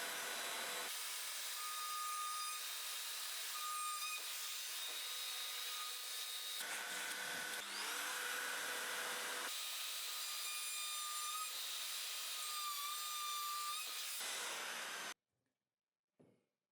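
A homemade X-Motion portable mortiser, a router-driven tool, cutting into wood: a steady high-pitched motor whine with grinding cutting noise, continuous for about fifteen seconds with a brief change in pitch midway, then stopping abruptly.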